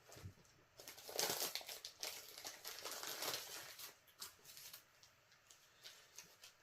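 MRE ration pouch being cut open and unpacked, with close, soft crinkling and rustling of plastic packaging in bursts over several seconds and no talk.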